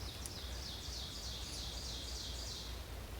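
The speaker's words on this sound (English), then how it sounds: "All you hear is birds." Birds sing in a steady series of high chirping phrases over a constant background hiss of outdoor ambience on the Old Loggers Path hiking trail.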